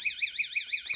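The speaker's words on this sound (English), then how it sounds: "it sounds off an alarm." A loud electronic door alarm warbles continuously in a rising and falling electronic tone, then cuts off abruptly near the end.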